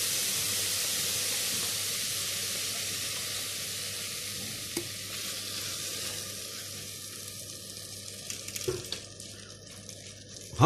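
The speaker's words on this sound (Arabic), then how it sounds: "هفضل احمر في البصله لغايه درجه البني الغامق" Onions frying in rice oil in a pan, a steady broadband sizzle that holds nearly constant throughout, with a few faint stirring clicks and scrapes toward the end.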